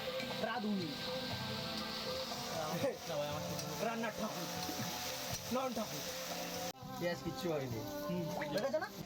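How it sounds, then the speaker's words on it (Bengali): Potatoes stirred into onion and chili frying over an outdoor wood-fired stove, a steady sizzle running beneath continuous conversation from several people. "তারপরে ওই পেঁয়াজ লঙ্কার মধ্যে আলুটাকে দিয়ে আলুটাকে ভালো করে নাড়িয়ে নেওয়া হলো"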